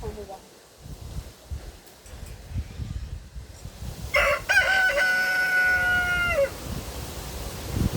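A rooster crows once, loud and drawn out, among backyard chickens, rising over a low, rumbling ambient background that continues before and after the crow.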